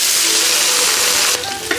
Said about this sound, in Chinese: 倒入五花肉。